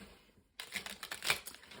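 Tarot cards are shuffled briefly after a moment of silence, a burst of quick papery flicks and snaps, close and fairly quiet with no speech.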